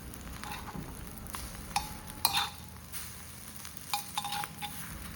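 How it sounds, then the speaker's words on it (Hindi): Bread slices toasting in oil on a hot griddle, a soft steady sizzle with scattered clinks and scrapes of a utensil against the metal, close and fairly quiet. "तवे पे फिर से मैंने थोड़ा तेल लिया है और ब्रेड की जो स्लाइस है वो हम रख देंगे।"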